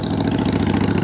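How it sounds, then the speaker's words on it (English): A motorcycle engine runs steadily nearby on a residential street beside a lawn being overseeded, a constant mid-low drone with slight flutter and no break, loud and close. "hi Mr. Motorcycle"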